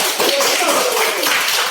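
A dense patter of many hands clapping together in a classroom, steady and lively throughout, filling the space like a room of students applauding.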